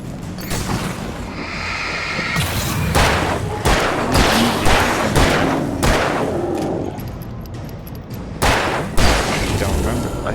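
Gunshots in the video game Alan Wake Remastered fire as a string of loud, booming blasts at irregular intervals, heavy thuds between them and someone talking over the action.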